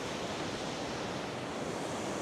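Ocean waves breaking near Kure Beach pier make a steady, broad roar of surf with wind mixed in, continuous and fairly quiet throughout the short stretch.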